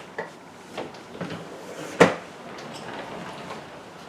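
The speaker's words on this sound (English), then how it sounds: "The drawer is open and Lindy needs to push the drawer closed." A drawer pushed shut, several light wooden knocks and scrapes leading to one sharper closing thud near the middle, fairly close and otherwise quiet.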